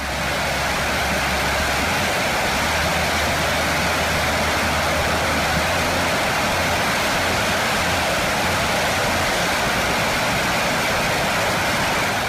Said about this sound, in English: the roar of the turbine is so loud that you could go deaf without ear protection